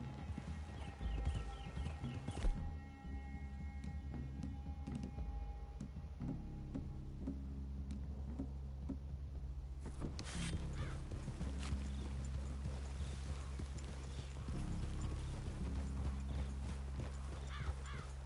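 Horses walking in the western video game Red Dead, hooves clip-clopping in a steady, uneven rhythm on the ground, with a brief whinny; the steps carry on continuously under a low ambient backdrop, no talk.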